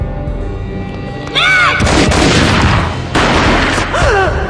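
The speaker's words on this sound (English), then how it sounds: "A gunshot boomed and she fell down in slow motion." Two loud gunshot booms in the video game Max Payne, one early and one later, each followed by a rumbling tail amid a dense, noisy game soundscape.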